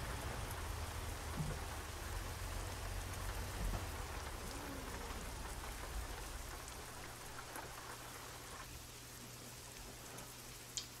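Steady rain in the video game American Truck Simulator hisses across the whole clip, dense and even, with a faint low rumble beneath and no voices.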